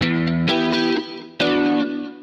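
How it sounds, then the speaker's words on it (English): Electric guitar chords played through an HX effects modeller with a short, quick mod chorus echo, two strummed chords ringing out with a shimmering, lightly repeating tail, no voices. "now this mod chorus echoes on"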